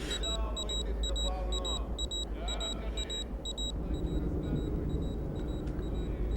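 A small electronic wristwatch alarm beeps in quick repeated pairs, thin and high, over a low rumbling background aboard Air Force One in a film, before fading to softer single beeps.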